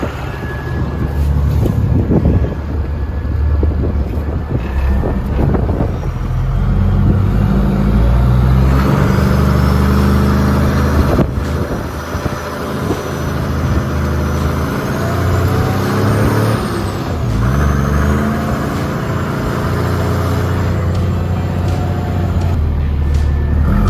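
A plough vehicle pushes through gorse, a loud, steady engine drone with rumbling low end and wind buffeting the microphone, continuing for the whole stretch with slight swells in intensity.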